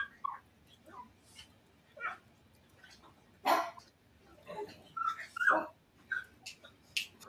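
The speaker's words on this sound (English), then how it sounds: "Dogs playing. Yeah, the dogs are playing." Dogs playing indoors give scattered barks, yips and whines at moderate distance, irregular and fairly quiet, with a few sharper barks standing out against a hushed background.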